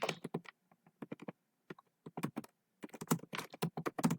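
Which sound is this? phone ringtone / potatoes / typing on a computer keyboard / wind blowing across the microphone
typing on a computer keyboard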